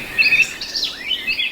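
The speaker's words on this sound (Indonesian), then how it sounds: "Sesekali, burung-burung mulai berkicau riang, memberikan lagu pagi yang menyegarkan suasana." Morning birdsong: bright chirps and rising whistled tweets from birds, close and fairly loud, in a quick, continuous run with no other sounds.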